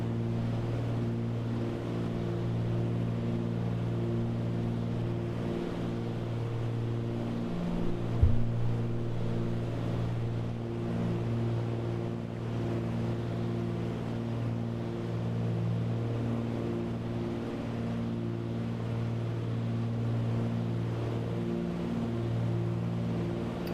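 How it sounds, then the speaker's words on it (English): Aircraft engines in a flight simulator game drone at a steady, even pitch, a soft constant hum with layered tones and no talk. "the sound of the engines is really on the verge of sending me to sleep"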